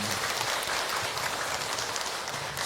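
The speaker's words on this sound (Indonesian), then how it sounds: "Tepuk tangan ibu untuk Hilman" Women in an audience at a religious talk applaud, a steady, dense patter of clapping filling the moment, slightly distant and soft.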